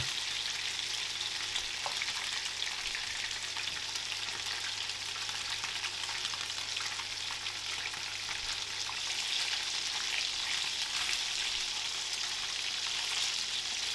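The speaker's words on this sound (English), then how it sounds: "what we want to do is toast the tofu on all sides" Tofu cubes frying until crispy and brown in a hot pan, a continuous even sizzle with a fine crackle that stays steady throughout, with no voices.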